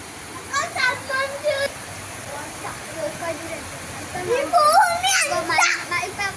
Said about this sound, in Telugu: మా ఇంటికాడ అయితే అనుకోకుండా ఫుల్ వర్షం పడుతుంది